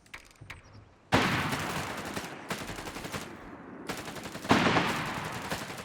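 A squad fires a machine gun in Company of Heroes 3, sounding as two long, loud rattling bursts of rapid fire after a quiet start, each burst trailing off under some lighter background clatter.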